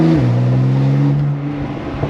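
A Porsche 911 Turbo S fitted with a new exhaust revs loudly and close, the engine note dropping and holding a steady low drone that fades slightly toward the end.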